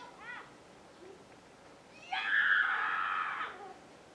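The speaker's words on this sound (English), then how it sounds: "Don't mind my neighbors screaming bloody murder." Neighbors scream outside: a brief high cry, then a sustained piercing shriek lasting over a second, heard at a distance against a quiet indoor background.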